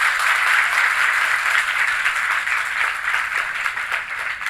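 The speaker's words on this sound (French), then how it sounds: "nous sommes avec les élèves les meilleurs de la commune de Saba qui sont avec nous et qui vont s'applaudir très fort" Applause from pupils of the commune of Saba at a televised event, a dense, steady wash of clapping with no talk over it.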